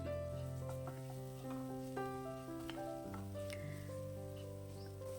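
Spice paste for egg curry being stirred and sautéed in a pan, with a steady soft sizzle and scraping stirs under quiet background music, no talk.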